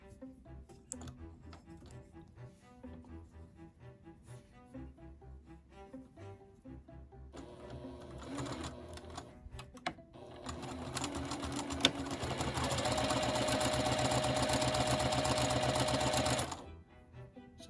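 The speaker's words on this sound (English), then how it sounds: "I'm going to sew these two together." A sewing machine stitches two fabric pieces together at a quarter-inch seam, first in slow intermittent bursts, then a loud, steady whirring run of several seconds that stops abruptly.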